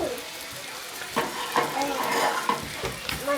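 Country Crock butter melts and sizzles in a pan for chicken Alfredo, giving a steady close hiss with scraping stirs and light clinks of a utensil against the pan.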